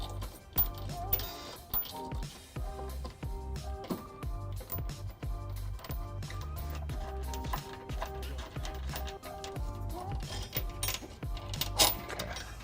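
Hitch bolts on a 2003-2010 Pontiac Vibe are fastened with a 19mm socket, giving a steady run of close metallic clicking, ratcheting and clinking taps throughout at moderate level.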